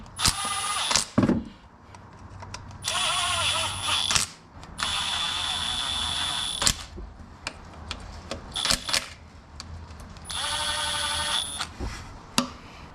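A power tool gun runs down transmission filter pan bolts in short whirring bursts separated by pauses, with ratcheting clicks and mechanical clatter close by.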